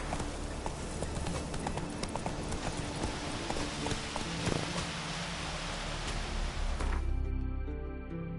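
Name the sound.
horse hooves galloping in video game The Witcher 3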